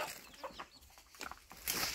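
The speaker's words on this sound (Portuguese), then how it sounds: "Galinha, galinha." A farmyard chicken clucks in a few short, fairly faint bursts close by, with light background noise and no clear talk.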